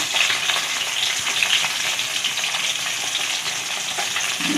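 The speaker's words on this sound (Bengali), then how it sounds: "তো দেখতেই পাচ্ছ এখন চলছে মাছ ভাজা।" Fish fries in a pan in a village kitchen during a Bengali harvest festival, with a steady, busy sizzle and crackle close by and no talk over it.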